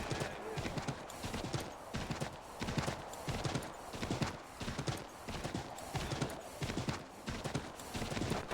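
Horse hooves clip-clop in a steady repeating rhythm throughout a scene from the video game Assassin's Creed III, fairly loud and continuous with a busy mix of game sounds.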